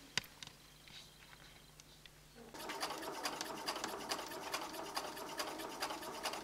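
A sewing machine stitches quilting fabric along a drawn cutting line, sewing a seam 7 mm to one side. After a quiet start with light handling noises, it runs as a rapid, steady mechanical chatter.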